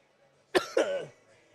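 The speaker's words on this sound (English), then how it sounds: "And I can't stop coughing for some reason." A person coughs twice close to the microphone, two sharp, quick hacks with a rough tail on the second, then quiet.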